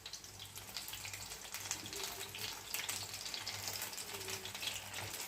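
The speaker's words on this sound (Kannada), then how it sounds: "ಹಾಗಲಕಾಯಿ ಫ್ರೈ" Bitter gourd slices fry in hot oil with a steady, dense sizzle and hiss that keeps going without a break and stays even in level.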